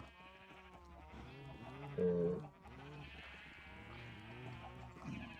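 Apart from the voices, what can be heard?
sheep bleating in video game Minecraft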